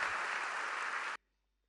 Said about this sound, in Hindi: आपकी तालियों के प्रणाम के साथ